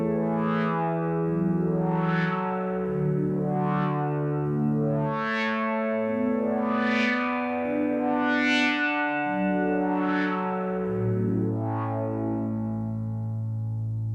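Sampled Minimoog synthesizer chords in a reggae style, major and minor, play one after another as sustained, bright sliding chords in a slow repeating sequence, loud and alone.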